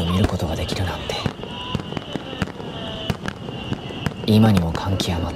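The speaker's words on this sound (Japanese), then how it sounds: "そしていよいよ花火が打ち上がる。" Fireworks burst over the beach at the Usami sea fireworks festival, with repeated sharp bangs and crackles, some near and some farther off, over a murmuring crowd.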